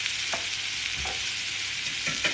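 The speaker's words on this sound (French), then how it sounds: "Et je mélange." Eggs beaten with a spoonful of liquid cream in a bowl for a pepper and ricotta frittata, a few scattered clinks of the utensil against the bowl over a steady hiss, close by with no talking.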